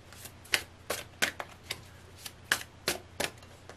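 Tarot cards shuffled in a quiet room, a string of crisp riffling snaps and soft slaps in an irregular rhythm, close and fairly faint over a low steady hum.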